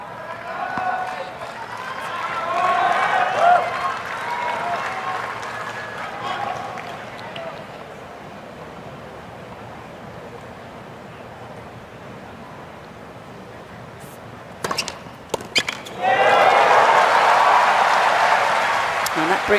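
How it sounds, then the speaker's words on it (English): A tennis crowd in Armstrong Stadium at the US Open breaks into a loud roar of approval and applause, rising suddenly after quieter murmuring, with a commentator talking. "brings up a roar of approval on Armstrong Stadium"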